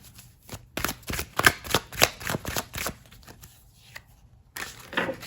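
A deck of oracle cards is shuffled by hand in a quiet room, making quick rhythmic bursts of riffling and flicking with brief pauses between, close and fairly soft.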